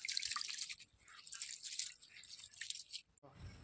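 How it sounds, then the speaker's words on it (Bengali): Rice is washed in water by hand, with close-up sloshing, dripping and squishing in bursts, then a short lower splash at the end. "চালটাকে ভালো করে পরিষ্কার করে ধুয়ে নেব"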